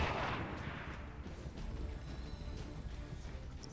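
A grenade detonates in XCOM 2 combat, a heavy muffled boom at the start that decays into a low rumbling tail, fairly quiet and with no voices.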